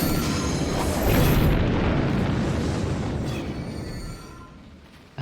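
A KX bomb explodes in the Fate/Stay Night video game: a loud, sustained boom and rumble that lasts several seconds and slowly fades, with no talk over it.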